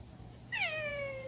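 A pet cat lets out a single rising-then-falling meow, close and clear over a faint background hum, lasting under a second.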